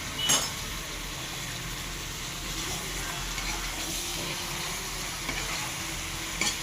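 Chicken lollipop pieces and meat stirred in a frying pan, a steady close sizzle with scraping spoon strokes throughout and a couple of sharper clinks near the start and end.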